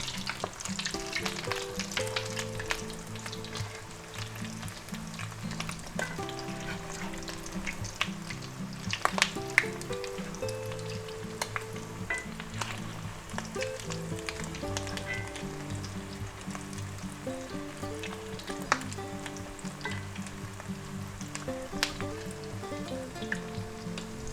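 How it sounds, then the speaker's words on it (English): Corned beef hash patties fry in a hot pan, giving a continuous crackling sizzle with occasional sharper pops, steady and close throughout, while faint background music plays underneath. "Now our corned beef hash patties should cook maybe for 2 minutes per side"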